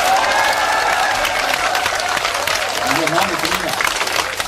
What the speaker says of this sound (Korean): 청중들의 이 뜨거운 박수 갈채에 너무 흥분했던 탓일까요?